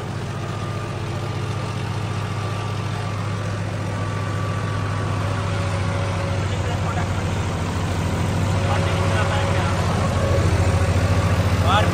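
A John Deere 5210 tractor with a power upgrade runs steadily, its loud low diesel drone constant and close, rising slightly in the last few seconds; a voice talks faintly under the engine.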